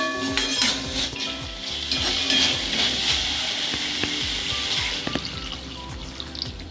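Sizzling and bubbling in a hot pan of tomato masala for Kerala-style kadala curry with a steady hiss, a splash of water going in, and faint stirring clinks throughout.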